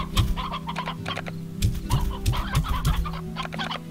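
Rooster in the game Slime Rancher giving a run of clucks and short squawks, loud and close, repeated in quick bursts over steady background game ambience.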